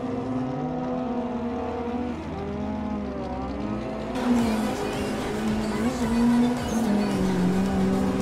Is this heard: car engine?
yes